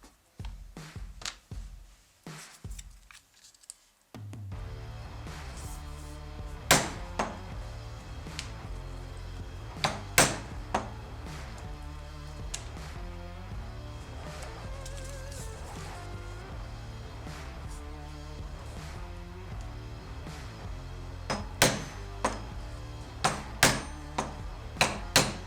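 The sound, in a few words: hammering hole punches through leather pieces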